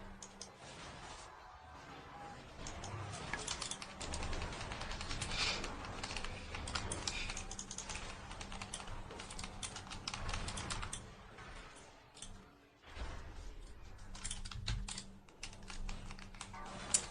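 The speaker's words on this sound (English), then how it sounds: "Are you typing in English though?" Steady typing on a computer keyboard, a continuous run of rapid clicks and key taps at close range, with brief pauses near the end and faint background sound beneath.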